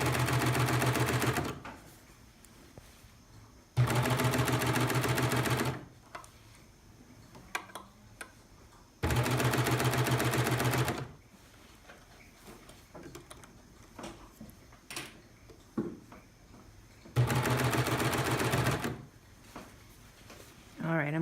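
A Baby Lock serger with a lace applicator foot sews a lace inset seam in four loud, rapid whirring bursts of about two seconds each, with talking in the pauses between runs.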